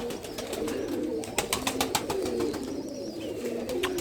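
A lightweight crossbred breeder pigeon coos softly and repeatedly in a low, rolling rhythm, with a few sharp taps and faint bird chirps in the background.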